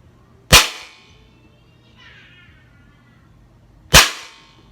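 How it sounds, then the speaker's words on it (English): Umarex Beretta M9A3 CO2 airgun pistol firing two loud, sharp cracks about three seconds apart, each with a short ringing decay, and a faint rattle in between. "All 3 shots went through the same hole."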